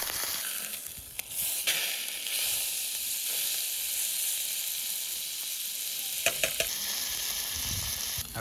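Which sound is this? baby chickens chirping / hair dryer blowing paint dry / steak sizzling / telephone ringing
steak sizzling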